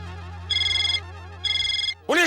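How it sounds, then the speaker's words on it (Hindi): A mobile phone ringtone goes off in a police station: two bright, electronic ringing bursts separated by a short pause, fairly loud and close, followed by a brief voice at the very end. "आपका ही फोन बज रहा है"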